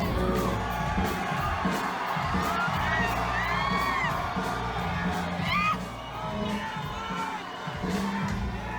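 Crowd at a punk show heard through a played-back recording, with cheering, whoops and yelling shouts rising and falling over a steady roar of music and noise, slightly muffled and mid-distance.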